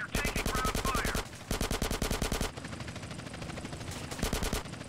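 Automatic gunfire rattles in GTA: San Andreas as a police helicopter is shot at, with loud sustained bursts broken by brief pauses and game sounds mixed in.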